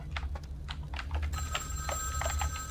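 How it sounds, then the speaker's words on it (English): A telephone rings inside a video game, a steady electronic tone that starts partway through and holds alongside clicking game sounds and a low background hum. "Where's that phone at?"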